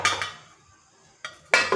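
A metal lid clanks onto a cooking pot of paneer butter masala with ginger, cashews and water, with a clatter at the start, a quiet gap, then two sharper metallic clinks near the end.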